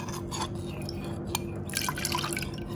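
Thick sweetened condensed milk pours into a mixture for a young-coconut es doger pudding, a soft continuous liquid trickle with small drips and a faint glassy clink, close and fairly quiet.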